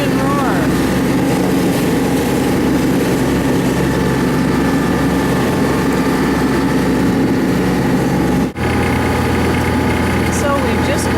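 A boat engine roars steadily while pushing against the current on the Columbia River, a loud continuous low drone with heavy vibration, and a voice speaks over it.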